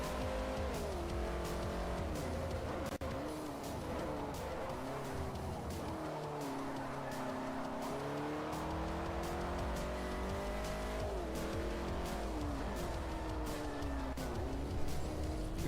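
Race car engines in Forza Motorsport 4, with a Ferrari among the field, drone loudly and steadily as the revs rise and fall in the gear changes, with tires squealing now and then.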